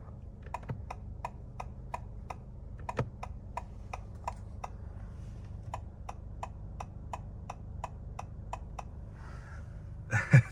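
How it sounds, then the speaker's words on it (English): Turn signal of a 2023 Honda Accord ticks inside the cabin, a steady run of crisp, evenly spaced clicks in two bursts, close and fairly quiet over a low background hum. "this is like ASMR sound right here for the turn signals."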